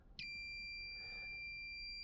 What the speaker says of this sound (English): And you can hear the meter beeping.